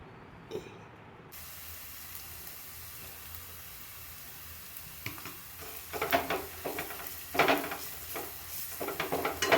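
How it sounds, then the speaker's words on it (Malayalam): Onions sautéing in a pan with coriander powder, a steady low sizzle with scraping and stirring strokes that grow louder and busier toward the end. "ഉള്ളിയൊക്കെ ഏതാണ്ട് വഴന്ന മട്ടായി ഇനി നമുക്ക് അതിനകത്തേക്ക് മല്ലിപ്പൊടി"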